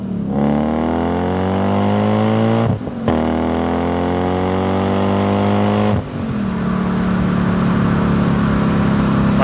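A manual Lexus IS300 wagon fitted with a V8 accelerates hard, its engine note climbing loudly and smoothly. Two brief dips mark quick gear shifts before it pulls strongly again.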